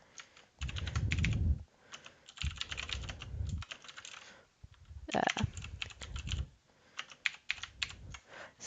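Close, steady typing on a computer keyboard as code is entered, with bursts of quick key clicks separated by brief pauses and heavier thumps from some keystrokes, with no talking.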